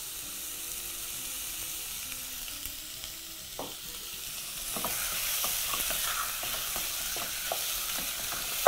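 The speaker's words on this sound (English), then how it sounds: "Now proceed to mix everything together. And at this stage, adding a bit of cooking oil." A beef biryani mixture with cooking oil sizzles in a pot, the frying hiss swelling partway through as repeated scraping stirs knock against the pot in a loose rhythm, close and fairly quiet, with no talk.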